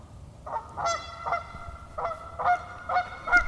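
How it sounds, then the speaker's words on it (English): Several loud goose honks sound in a loose irregular series, some overlapping, fairly close with a faint background hiss. "as well as Canada geese and other waterfowl."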